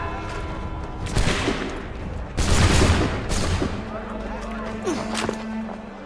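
Musket volleys fired by a line of soldiers in the Assassin's Creed III video game, two loud, dense bursts of crackling gunfire close together, followed by a lower rumble and a voice speaking briefly.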